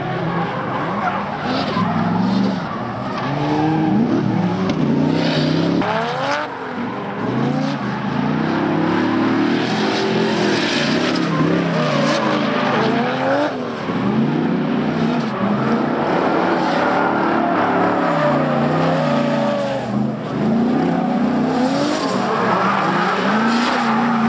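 Drift cars tandem drifting at Klutch Kickers, engines revving and tires squealing in long sweeping wails, loud and continuous across the run with multiple cars overlapping.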